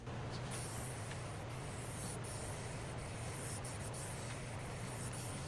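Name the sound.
wiping wood surface with alcohol to remove sanding dust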